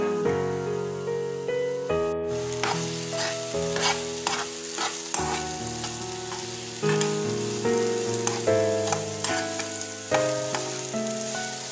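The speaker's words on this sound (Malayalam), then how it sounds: "കുറച്ച് പഴുത്ത പഴമാണ്, ഒന്ന് ചെറുങ്ങനൊന്ന് തീയിൽ ഒന്നാക്കിയെടുക്കാം" Ripe banana cooks in a hot pan for banana pola, giving a loud, continuous frying sizzle broken by repeated rhythmic stirring scrapes close by.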